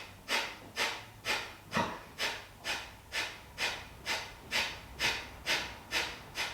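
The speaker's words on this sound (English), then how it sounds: "exhale out through the nose." Rhythmic nasal exhales during a detox yoga breathing exercise, a dozen or so steady breaths at an even pace, each a soft airy whoosh, close and alone with no talk.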